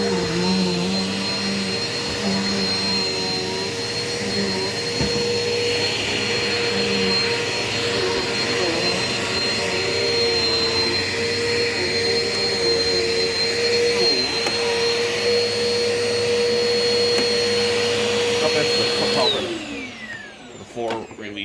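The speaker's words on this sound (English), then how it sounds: "I highly recommend the Eureka Power Speed" Eureka Power Speed vacuum cleaner, a curbside find, runs steadily indoors with a loud whining motor roar and a constant high tone, then powers down with a falling pitch near the end.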